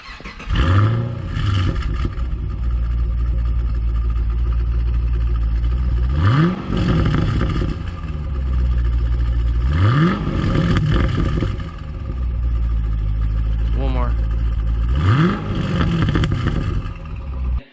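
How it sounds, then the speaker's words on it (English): A 2017 Chevy SS V8 with its factory exhaust idles with a deep, steady rumble, then rises into several sharp revs that climb and fall back to idle, loud and close. "So let's go ahead and get this car fired up. We'll hear the factory exhaust"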